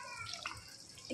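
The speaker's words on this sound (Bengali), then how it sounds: "আমি এটাকে অ্যাড করে জল দিয়ে এরপরে এর মধ্যে আরেকটু জল আমি দেবো" Water is poured into a pan of mini soya chunks, making a brief, faint splashing trickle with a small dripping burst at the end, close by and quiet.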